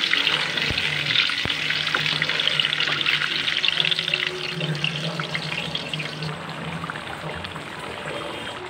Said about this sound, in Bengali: ডিমগুলোকে সিদ্ধ করে ছিলে হালকা ভেজে নেব